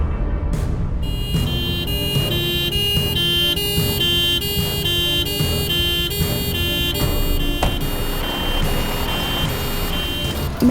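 An ambulance siren, loud and close, cycling steady repeating electronic tones with no voices.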